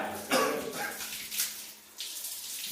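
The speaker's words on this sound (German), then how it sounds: "Du musst abgeduscht werden." Shower water runs and splashes in bursts while a dog is being washed, the spray rising and falling in close, irregular surges.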